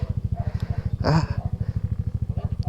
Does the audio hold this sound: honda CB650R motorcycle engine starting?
yes